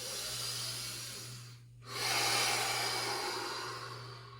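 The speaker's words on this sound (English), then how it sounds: "Breathing." Steady breathing from a person holding a core yoga exercise, soft and close with a constant low hum beneath; a brief quiet gap comes before a fuller, longer exhale-like rush of air.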